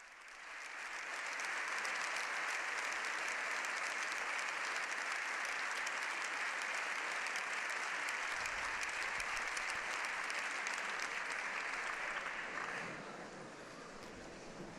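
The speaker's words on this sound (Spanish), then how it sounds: "aplauden largamente al Papa" Both chambers of the Spanish Parliament give the Pope a long standing ovation, a dense, steady wall of applause that keeps going for many seconds before easing off slightly near the end.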